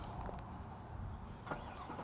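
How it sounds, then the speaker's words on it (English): A 2023 GMC Yukon Denali Ultimate with a V8 engine and quad exhaust tips starts by remote outdoors, heard as a faint, steady low rumble with a couple of brief louder bumps. "That big V8 definitely gets roaring"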